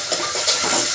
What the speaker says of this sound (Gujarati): બા મસ્ત વઘારી રહ્યા છે